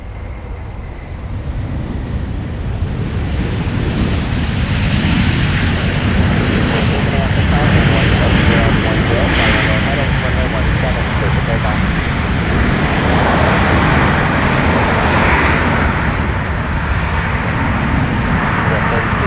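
A Southwest Airlines jet rolls at MSP airport, a loud continuous engine roar with deep rumble sustained throughout, while air traffic control radio chatter runs underneath.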